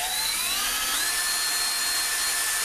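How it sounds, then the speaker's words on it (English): A small power drill with a tiny number 40 bit whines steadily and close, its pitch rising slightly as the bit works through material, with no talking. "Number 40 drill bit in the drill."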